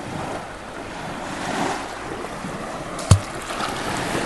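Ocean surf along a beach near Point Betsie Lighthouse, a steady wash of waves with wind noise, and one sharp close splash that hits the microphone about three seconds in.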